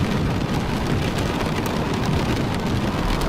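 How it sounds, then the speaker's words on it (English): Heavy storm and rain in The Stanley Parable, a dense, continuous rush of pouring rain with deep rumbling underneath, loud and unbroken throughout. "Why does it sound like there's a storm going on?"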